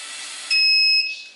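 A Naze32 quadcopter flight controller sounds its failsafe alarm: one loud, piercing electronic beep with two steady high tones, close by and alone.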